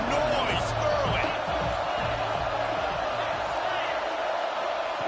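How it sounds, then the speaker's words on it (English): Crowd noise at a game, a steady roar of many voices with whoops and scattered thuds filling the whole stretch, loud and sustained throughout. "This crowd bringing the energy and noise early."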